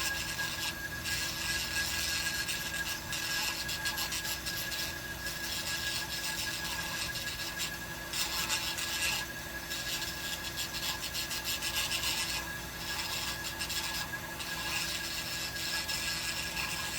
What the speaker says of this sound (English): So you want to file it down with the rock.